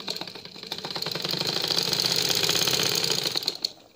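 A simple sewing machine running a top stitch alongside a seam, a close rhythmic clattering whirr that builds over a few seconds and then slows to a stop.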